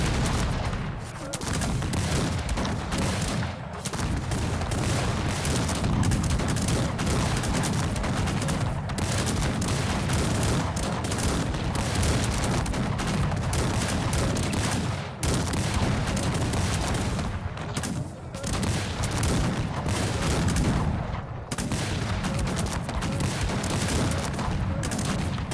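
Cannon and musket fire from a Cossacks 3 2v2 multiplayer battle, a dense, continuous barrage of booming blasts and crackling volleys that runs loud throughout with brief dips.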